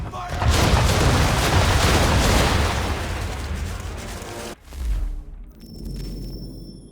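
Heavy ship cannons fire a round-shot broadside in Assassin's Creed III, a long rolling roar of overlapping booms that fades out, followed by a softer distant thump and low rumble.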